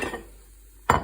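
A plate meant for scrambled eggs is set down in a kitchen, landing as one sharp, close ceramic clack after a moment of near quiet, with a faint earlier rattle.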